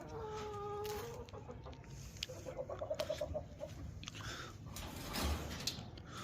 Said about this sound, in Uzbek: Tovuqlarimiz esa Adlerskiy zotiga mansub bo'lib